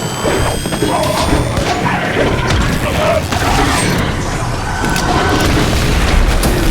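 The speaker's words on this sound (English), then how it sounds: "Hand grenade!" A hand grenade explodes in the video game The Bureau: XCOM Declassified, a heavy boom lost inside dense, continuous combat noise with mechanical clatter and crashing debris throughout.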